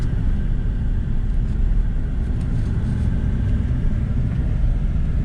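A combine harvester picking corn in a field gives a loud, steady engine rumble with constant mechanical drone throughout.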